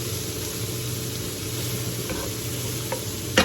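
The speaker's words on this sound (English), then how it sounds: "let's give that a mix" Beef shanks with seasoning and leaves are mixed in a pot over a steady, even sizzle, with a faint scrape midway and a sharp clink of the utensil right at the end.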